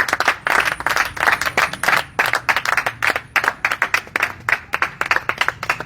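A church congregation at an intense prayer session clapping in rhythm, a rapid, steady stream of hand claps with cheering voices underneath, loud and close throughout.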